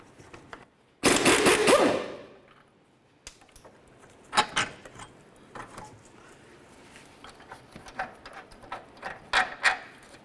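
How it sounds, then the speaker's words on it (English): A wrench works an 18mm nut off a rear shock bolt on a 2002-2009 GMC Envoy. A loud burst of rapid impact-wrench rattling opens the sequence, followed by scattered metallic clinks and ratchet clicks, close by with no talking. "Now I'm going to use my 18mm wrench to hold this side of the bolt"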